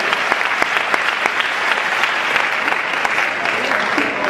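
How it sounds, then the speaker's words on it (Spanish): Sustained applause from a convention crowd in Madrid, dense clapping with a few sharper individual claps standing out near the microphone. "a Quique y Ángela, nuestro gran aplauso esta noche por hacer posible esta convención"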